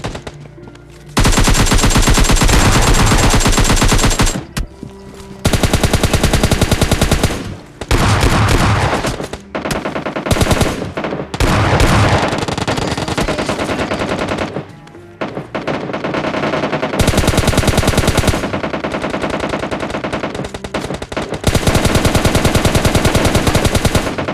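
Automatic gunfire in the mobile battle-royale game PUBG Mobile Lite comes in long, loud, rapid bursts, near and dense, broken by short pauses between volleys.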